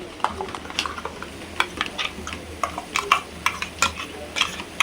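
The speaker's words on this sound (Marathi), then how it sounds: "हे एका भांड्यात काढून घेऊया आपण चमच्याने" A metal spoon scrapes and taps repeatedly against a pot, scooping out freshly ground masala in quick irregular scoops at close range with no talking.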